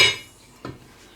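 Metal lid set onto a cooking pot while meat is being prepared, one faint single clink after a brief fading clatter, close and quiet with no talk.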